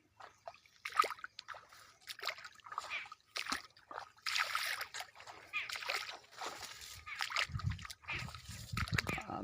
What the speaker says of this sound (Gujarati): પાણીમાં થઈને જવું પડે છે।